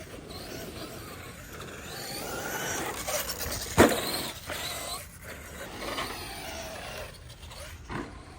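A Traxxas Slash RC car drives and slides, its small motor whining and tires scrabbling in uneven bursts, with one sharp knock in the middle and no voices.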